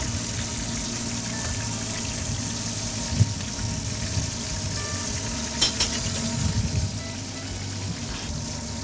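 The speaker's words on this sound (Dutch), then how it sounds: "de hamburgers moeten even bakken" Continuous soft sizzling of hamburgers frying in a pan, a steady crackle with a few brief clinks, no talking.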